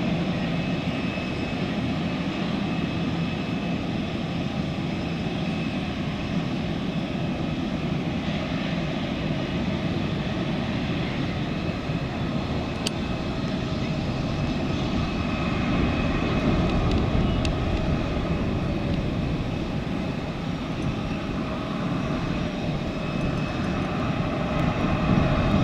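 US C-17 military transport aircraft at Noi Bai airport, a steady, loud roar of jet engines droning continuously without a break, broad and rumbling throughout.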